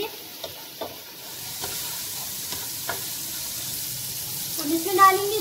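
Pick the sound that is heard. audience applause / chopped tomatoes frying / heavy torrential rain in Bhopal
chopped tomatoes frying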